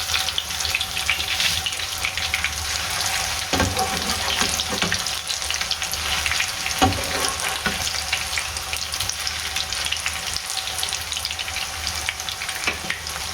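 Chicken chapli kebabs sizzle steadily in a pan after being flipped to cook the other side, a loud continuous fry with faint scraping and clinks, no voices.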